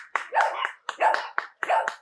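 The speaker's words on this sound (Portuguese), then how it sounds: "batidas de palmas" Three short bursts of hand claps sound at a house door as a census supervisor calls on a home, each burst a quick cluster of close, sharp claps separated by brief pauses.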